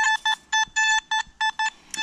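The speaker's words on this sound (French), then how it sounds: "Ça bip de partout, mais on n'a pas de truc extraordinaire pour l'instant." Beeping from a DMD Pro metal detector sweeping ground at a Normandy religious site, a run of about nine short, loud, evenly spaced electronic tones with brief gaps between them, no voices.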